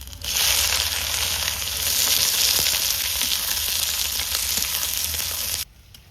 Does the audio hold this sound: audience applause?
no